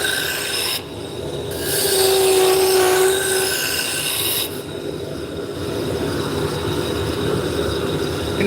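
A roughing gouge works a spinning blank on a wood lathe, bringing the diameter down with a loud, continuous rasping scrape that surges and eases as the tool moves, with a brief squeal partway through and no talking.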